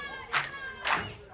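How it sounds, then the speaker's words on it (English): Wrestling event crowd at a live show cheering in two short bursts of shouting, rising and falling about half a second apart, moderately loud over a quiet background. "Crowd trying to get behind Brian Atomic"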